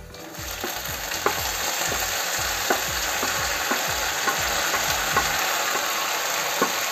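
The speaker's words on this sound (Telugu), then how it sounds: "కొంచెం కరివేపాకు వేస్తున్నాను కొంచెం వేగిన తర్వాత" Curry leaves crackle in hot oil for a Rayalaseema puffed-rice upma tempering, with a steady loud sizzle and a regular rhythm of spatula scrapes stirring the pan.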